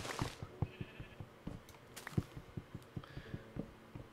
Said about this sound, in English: all these sheep lying around